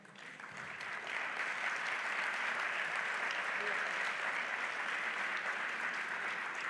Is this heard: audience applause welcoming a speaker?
yes